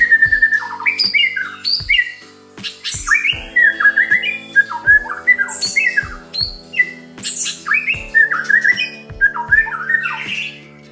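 Colour-mutation white-rumped shama (murai batu) singing on a breeding farm: a rich, loud run of varied whistles, squawks and chirps in close repeated phrases, with no speech.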